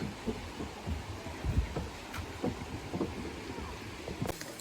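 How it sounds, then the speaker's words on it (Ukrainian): Water flows outdoors in a shaded natural spot, a soft continuous rush with faint gurgles and light wind buffeting on the microphone, fairly quiet and steady, with no one talking. "Так хочу вам просто шум природи, шум водички зняти."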